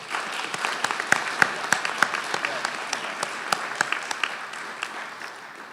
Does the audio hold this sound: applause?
yes